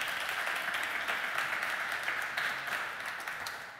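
Film screening audience applauds volunteers with a steady, fairly soft wash of clapping that holds evenly and then tapers off toward the end.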